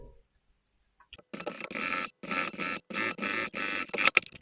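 Sewing machine running a cover seam on a jogger, whirring in several short bursts separated by brief pauses, close and moderately loud.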